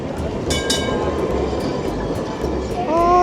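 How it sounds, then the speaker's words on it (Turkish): A tram rolls along a city street toward the stop, its wheels rumbling and clicking over the rails, with a metallic squeal rising near the end as it draws close; no one speaks. "Tramvay geliyor."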